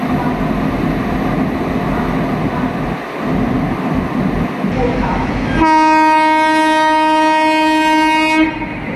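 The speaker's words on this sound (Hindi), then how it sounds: "महाबोधि एक्सप्रेस नई दिल्ली गया।" The Mahabodhi Express rumbles past on Indian railway tracks with a loud, close roar. Near the end a long, sustained train horn blares for about three seconds.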